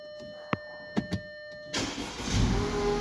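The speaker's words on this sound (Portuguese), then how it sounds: "Nesse caso aqui tem esse carro ligado." An Audi Q5 with its engine starting and then running, a few clicks and thumps before a broadband engine noise sets in close by and holds steady through the rest.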